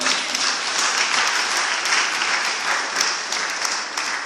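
A church audience bursts into loud, steady applause, with many hands clapping in a dense, continuous wash that carries through without pause.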